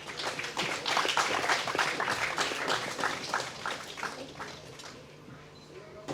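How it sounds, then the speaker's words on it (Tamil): An audience gives a guest a big round of applause as she is welcomed to the stage, dense clapping that holds strong for several seconds and then thins and fades out. "அவங்கள ஒரு பெரிய கைத்தட்டலோட மேடைக்கு வரவேற்கலாமா?"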